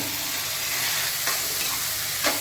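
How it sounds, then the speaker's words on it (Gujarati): Eggplant, carrot and bottle gourd sizzle in a hot pan for sambhar, a loud continuous frying hiss with a few brief scraping stirs. "હવે નાખી દઈશું રીંગણા, ગાજર, દૂધી, તરીકો,"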